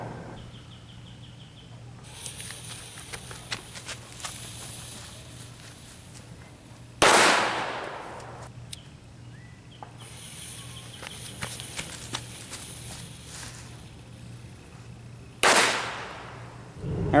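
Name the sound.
M60 firecrackers exploding inside nylon bags' PALS webbing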